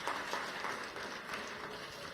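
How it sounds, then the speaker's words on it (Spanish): A church congregation gives a steady round of applause for God, a dense continuous wash of clapping that stays even throughout. "Un aplauso al Señor."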